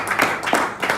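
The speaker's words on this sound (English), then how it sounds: "let's have another round of applause" A few quick claps ring out in a short burst at a youth empowerment program, uneven and close, more like a handful of hands than a full crowd.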